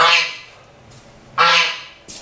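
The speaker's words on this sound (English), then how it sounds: "And the goose is gonna tell us." A goose honks loudly twice in quick, harsh bursts, then starts a third, shorter honk just as the sound cuts off, close to the listener with quiet gaps between calls.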